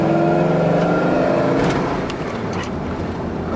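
A Dodge Ram V10 4x4 pickup truck drives along, its engine holding a loud, steady droning hum with layered tones that eases slightly toward the end.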